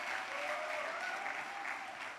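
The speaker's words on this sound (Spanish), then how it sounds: "Denle un aplauso al Señor por la vida" Continuous applause from a congregation at a European church congress, steady dense clapping that sounds somewhat distant and soft, with no voices over it.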